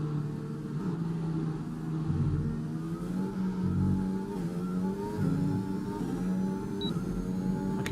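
Formula 1 car engine braking and downshifting to third gear after the Mexico Grand Prix, a loud steady engine drone with shifting pitch and a few blips as gears drop.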